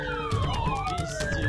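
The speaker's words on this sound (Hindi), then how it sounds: "आपको सायरन की आवाज सुनाई दे रही होगी।" Emergency vehicle sirens wail at the scene of a car explosion, several overlapping tones sweeping up and down at once, loud and close over a rumbling street background.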